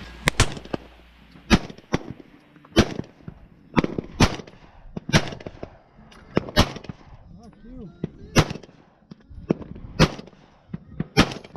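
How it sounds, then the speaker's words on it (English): Repeated Glock 19 handgun shots fired outdoors in the desert, about a dozen sharp cracks spaced roughly a second apart, each loud and close with a short echoing tail, and faint background talk between shots. "Papo got the Glock 19 now."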